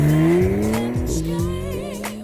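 A 2017 Porsche 991.2 Targa 4 GTS driven hard, its engine note rising and falling through gear changes with a brief tire squeal, loud and close throughout.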